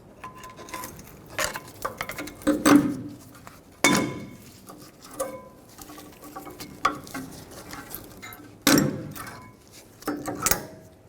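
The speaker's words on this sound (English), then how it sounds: "Remove the brake pads. Just take a screwdriver, pry them off." Metal scraping, clinks and sharp knocks as a screwdriver pries the rear brake pads off a 2011-2016 Ford F350 Super Duty, several distinct bursts spread unevenly, close and fairly loud with no talk.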